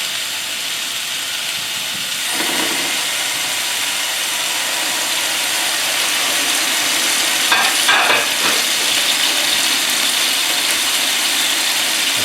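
Filet mignon searing in a very hot pan, a loud continuous sizzle and hiss that swells slightly partway through, with no voices.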